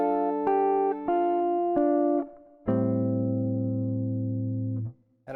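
Fingerstyle guitar plays the first measure of a jazz standard: a few quick rolled arpeggio chords ringing out, then a long sustained chord that fades, solo and close with no talking.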